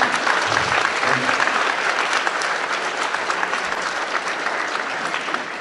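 Sustained, dense applause from an audience at a municipal New Year's address in a French hall, steady and loud throughout with no pause.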